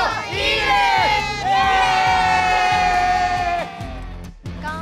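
A capacity crowd roars and cheers at the Rakuten Eagles' 2019 home opener against the Hokkaido Nippon Ham Fighters at Rakuten Seimei Park Miyagi, with loud sustained shouting and whoops swelling in waves, plus rhythmic drumming beneath.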